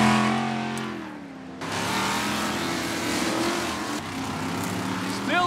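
Off-road championship race trucks roar and rev at close range, engine pitch rising and falling as they fly over jumps and a berm, a loud continuous motor drone with a brief dip partway through.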